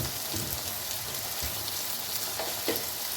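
Native tomatoes frying in a pan, a loud, dense, continuous sizzle up close with a couple of light stirring knocks near the end.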